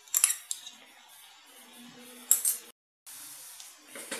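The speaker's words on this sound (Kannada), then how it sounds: "ಸ್ವಲ್ಪ ಹಳದಿ ಪೌಡ್ರನ್ನ ಮಿಕ್ಸ್ ಮಾಡ್ತಾಯಿದ್ದೀನಿ" A metal spoon mixes turmeric powder and salt into raw fish pieces in a dish, making scattered light clinks and scrapes, a few sharper taps, and quiet stretches between, with a short silent gap.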